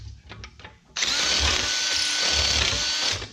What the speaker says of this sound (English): I'm hoping my drill bit makes it through this.